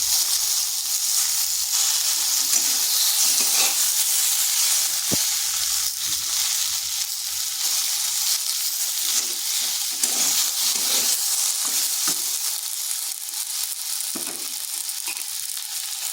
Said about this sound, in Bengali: আঁচটাকে স্লো আঁচে রেখে বেশ কিছুক্ষণ এটাকে এভাবে ভেজে নিতে হবে।